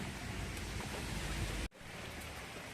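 Heavy monsoon rain pouring steadily onto a garden of potted plants, a dense close hiss that cuts out abruptly for a moment before resuming.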